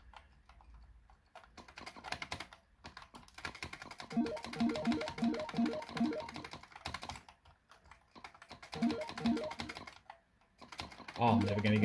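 Computer keyboard keys pressed in quick bursts while playing a game, clicking in short rhythmic runs around the middle of the stretch, mixed with game sounds and a speaking voice.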